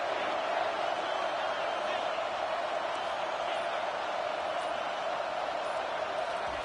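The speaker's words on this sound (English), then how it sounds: "This crowd rising up, sensing that its defense needs some help." In College Football 25, a Minnesota vs Michigan State game, a simulated stadium crowd swells into a broad, sustained roar, steady and loud throughout.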